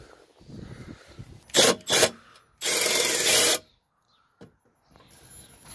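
Tools working loose the battery plate bolts on a Citroen C4 1.6 HDi, close and loud: two short bursts of scraping and ratcheting, then a longer steady grinding spell, with quieter handling clatter between.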